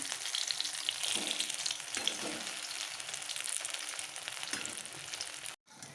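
Pumpkin flower pakoras coated in rice flour fry in hot oil with a steady, dense crackling sizzle heard up close. The sound cuts out briefly near the end, and no one talks.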